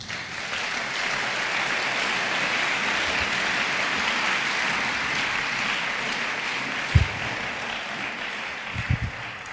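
A church congregation applauds in a steady, dense wash of clapping that holds evenly throughout, with a couple of brief low thumps near the end.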